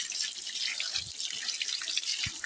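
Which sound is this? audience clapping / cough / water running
water running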